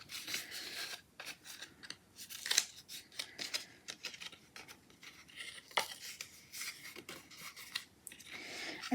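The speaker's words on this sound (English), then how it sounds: "I'm going to score those down or fold them down." Card stock being scored and folded along tab and center lines for an insect-themed bendy card, giving repeated close scraping and rubbing strokes with soft crisp rustles, no talking.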